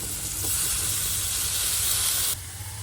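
Steamed flat ghevda beans tip into a pan of salt, turmeric and masala frying in oil, giving a steady close hiss and sizzle that drops sharply in level near the end.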